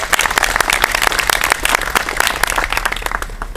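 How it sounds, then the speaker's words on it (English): A crowd applauds steadily at a Continental Congress celebration in Texas, many hands clapping at once in a dense, sustained patter from start to finish. "So if you give them a huge round of applause."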